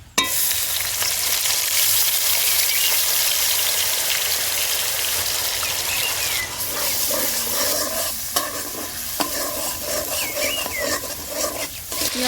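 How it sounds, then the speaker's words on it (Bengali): Onion paste sizzles and crackles steadily in hot oil with dried red chilies, bay leaves and peppercorns, stirred while cooking chicken rezala, close and loud with no voices. "ফোড়নটা হালকা করে তেলের মধ্যে নেড়ে নিয়ে পেঁয়াজ বাটা দিয়ে দিচ্ছি"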